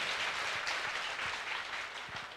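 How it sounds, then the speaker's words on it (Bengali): Applause from an audience at a Bangladeshi motivational talk, honouring expatriate workers: a steady wash of many hands clapping, fairly faint and distant, continuous throughout without talk. "সো তাদের জন্য জোরে একটা করতালি"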